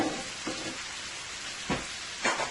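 Breakfast wrap filling with breakfast sausage fries in a pot on high heat, giving a steady close sizzle and crackle with a few louder pops and stirring scrapes.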